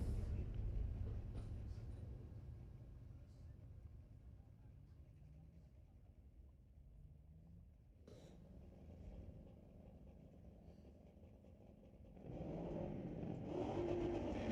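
A 2017 Camaro and a 2011 Ford Mustang drag racing at Mission Raceway Park on a street legal drag night, engine rumble heard from a distance that fades, then loud revving swells near the end.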